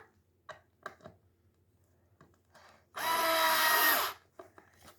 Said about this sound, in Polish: Teraz wam pokażę, jak się wkręca wkręty w ragic.